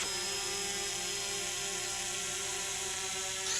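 A tiny remote-controlled drone helicopter flies nearby with a steady, high-pitched whirring buzz that holds constant throughout.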